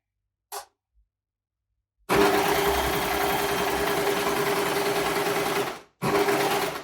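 A Baby Lock Desire3 combination machine stitches a tight rolled hem in a steady, continuous whir close by, after a brief click; the stitching stops for a moment, then starts again.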